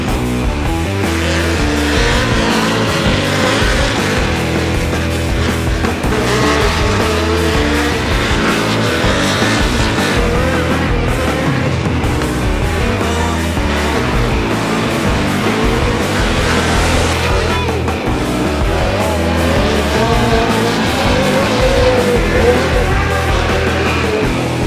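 Midget race cars on a dirt oval at Valley Speedway, engines snarling and rising and falling continuously as the pack circles, loud and close, with several cars blending into one throbbing roar.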